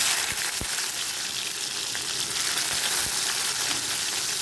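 Onions fry in hot oil for Chettinad pepper chicken, a steady, loud sizzle holding throughout, with a few faint stirring knocks underneath.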